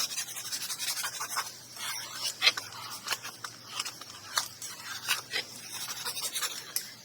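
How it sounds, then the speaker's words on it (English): Paper is burnished down onto the back of an envelope by hand, giving repeated close, dry rubbing and scraping strokes in an uneven rhythm, with no voices. "Burnish that right on down to the back of that envelope."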